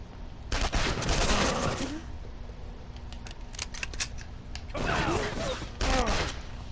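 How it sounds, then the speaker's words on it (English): Gunfire in the CounterSpy video game comes in short bursts of rapid shots separated by quieter gaps, with a few isolated single shots in between and game effects underneath. "Ooh, gunfire."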